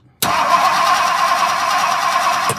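A 1964 Ford Country Squire engine cranks with a newly replaced starter and catches abruptly, then settles into a loud, steady running roar close by, with no voices.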